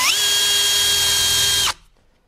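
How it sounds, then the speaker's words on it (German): A Bosch 12-volt cordless drill in first gear whirs into metal with a loud, steady high whine for under two seconds, then stops abruptly into silence. "Ich benutze aber den Akkuschrauber und schau mal, ob das auch funktioniert."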